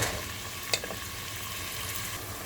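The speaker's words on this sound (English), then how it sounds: "Gonna add that garlic in there. Let that brown more." Garlic fries and browns in a pan as a steady, close sizzle, with one brief clatter of stirring partway through.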